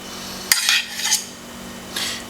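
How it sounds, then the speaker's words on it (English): A metal fork scrapes and clinks against a dish while spreading mustard over a Swedish Christmas ham, a few sharp taps and smeary scrapes over a steady low hum, with no voices. "I'm just going to use a fork. And I'm just going to slather this mustard on"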